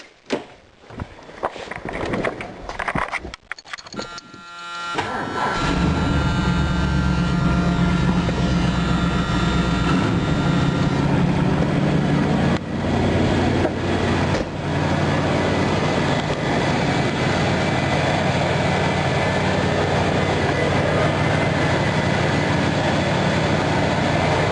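A 1978 Ford LTD engine, just fitted with a new water pump, cranks with quick rhythmic churning, catches after about five seconds and settles into a loud, steady rumbling idle that continues for the rest of the stretch with no talking.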